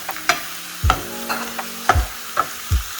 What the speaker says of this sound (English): Now you just have to flip the chopped onion and make it a bit brownish